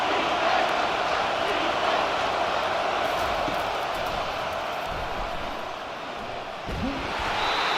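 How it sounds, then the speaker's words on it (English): Steady, dense crowd roar filling a college football video game stadium during a Maryland vs. Michigan matchup, a constant loud wash of noise that dips slightly then swells again, with faint commentary running underneath. "this crowd is tearing the lid off this place"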